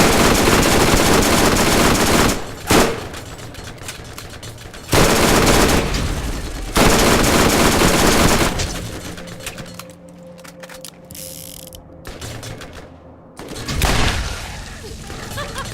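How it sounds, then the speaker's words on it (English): Machine gun fire in Borderlands comes in long loud sustained bursts separated by short gaps, a dense rattling stream of shots that grows quieter and sparser toward the end before one last burst, with no speech. "That was a machine gun."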